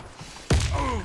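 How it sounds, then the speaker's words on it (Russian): A grenade thrown in the Warface shooter lands with a single loud, close thump, followed by a brief rising mechanical whine. "Кидаю гранату!"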